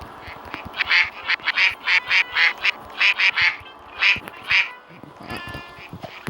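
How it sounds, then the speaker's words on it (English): Ducks in a Roblox game let out a rapid run of about a dozen loud nasal quacks in quick rhythm, then the calls stop and scattered clicks and bumps follow. "Ducks."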